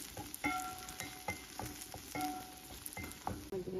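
Bitter gourd hits hot oil in a pan with fried onion and ginger, giving a steady close sizzle broken by repeated clicks of stirring.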